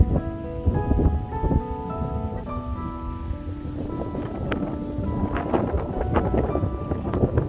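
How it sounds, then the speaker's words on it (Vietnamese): Breeze blowing in off a lake beside a lakeside BBQ garden on a sunny afternoon, a steady rushing wind over the microphone with faint chimes and tinkling sounds scattered through it, no talking. "nắng này thì gió từ hồ lên nó làm cho dịu lắm"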